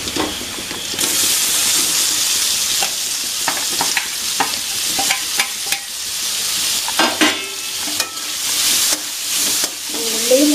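Breadfruit sizzles in a hot pan as it is stir-fried, with steady frying hiss and repeated scraping clacks of a spoon stirring close up throughout.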